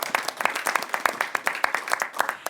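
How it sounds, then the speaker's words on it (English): An audience at a congressional news conference on energy efficiency legislation applauds, a dense run of close, crisp claps rattling steadily without pause. "Now, we can clap for that."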